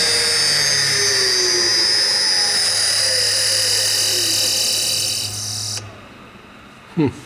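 A DCM IG 180 SD vertical spindle CNC rotary surface grinder spins down loudly, its steady whine falling in pitch and then cutting off, followed by a brief knock and near silence.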